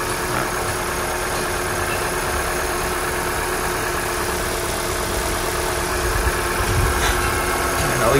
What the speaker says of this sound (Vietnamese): Máy hay dơ thôi chứ máy nổ cực kỳ im rồi ha.